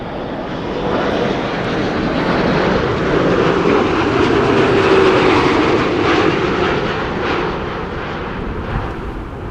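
Airliner landing in gusty wind at Amsterdam Schiphol Airport, a steady loud broadband engine roar swelling toward the middle and easing off, continuous with no talk.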